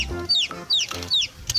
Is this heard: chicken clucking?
yes